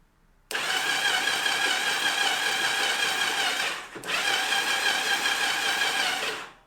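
A Yamaha Virago 920 motorcycle engine, started by jumping the solenoid, bursts into life and runs loud and close for several seconds, dips briefly, then runs on steadily until it cuts off.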